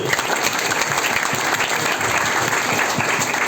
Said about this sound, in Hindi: आपने ताली बजाई सुन के ही